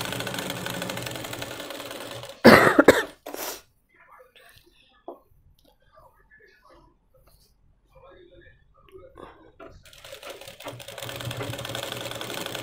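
Sewing machine stitching fabric for an umbrella dress, a loud close whirring burst of stitching lasting about a second, then near silence with faint handling noises before a steady low hum returns.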